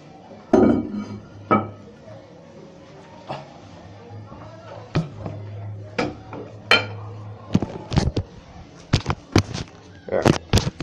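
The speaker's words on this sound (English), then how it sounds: "Alright, let's put the tank back on." A ceramic toilet tank is set back onto its bowl, with hard clunks and clinks of porcelain and hardware scattered irregularly and growing busier toward the end, and a low hum in the background.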